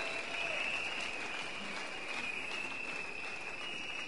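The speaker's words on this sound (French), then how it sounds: "Acclamons pour la parole de Dieu." A church congregation at a pastor's service breaks into sustained, dense applause, steady and moderately loud throughout, with a high continuous tone running beneath the clapping.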